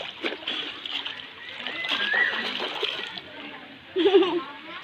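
Water splashes and sloshes as someone swims in a pool on a Mount Galunggung outing, the splashing moderately close, with people's voices and background chatter over it.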